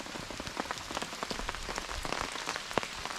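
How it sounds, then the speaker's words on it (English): Steady rain patters on surfaces around a rainy truck campsite with a campfire still going, a dense hiss of close drops and scattered sharper taps continuing throughout with no talking. "Rain has come again, but fire's still going."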